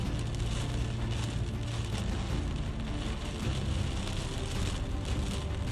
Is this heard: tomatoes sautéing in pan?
no